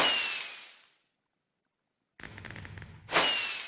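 Fireworks launch in the Minecraft video game. Two loud whooshing bursts come at the start and the end of the clip with a gap of silence between them, and a crackling patter sounds just before the second launch.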